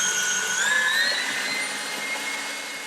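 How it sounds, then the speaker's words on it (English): An electric mixer whips meringue for a chiffon cake, a steady high whine that rises slightly in pitch partway through and holds constant, close and continuous with no talk. "Keep beating until soft peaks form."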